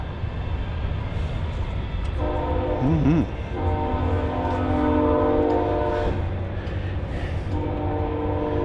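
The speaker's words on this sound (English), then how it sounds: "Train going by." A train rumbles past at a farm show with a long, blaring horn sounding over the steady roar of the rail cars.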